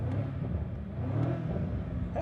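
Rumbling V8 exhaust burble from a BMW G90 M5 with a DCE titanium midpipe and OPF delete, a steady low, continuous rumble at close range with no voices.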